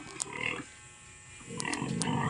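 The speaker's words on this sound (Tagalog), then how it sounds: "Baboy." A pig grunts in two short bursts with a pause between, close and fairly quiet.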